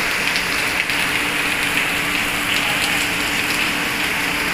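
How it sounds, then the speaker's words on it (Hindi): Heavy rain pounds a shopping mall rooftop in Malaysia, a dense, loud, continuous hiss and patter that stays steady throughout with no voices. "बहुत तेज़ बारिश है यार।"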